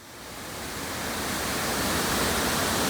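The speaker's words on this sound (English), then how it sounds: "Very cool waterfall," Bridal Veil waterfall in Temagami roars with a steady, dense rush of falling water that swells slightly at the start and then holds a constant, full wash, with no voices.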